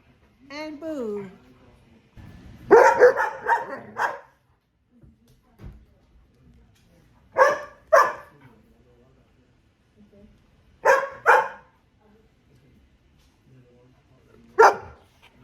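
Golden doodle dogs bark in short, loud clustered bursts separated by quiet gaps, with a whining yip at the start, close by indoors.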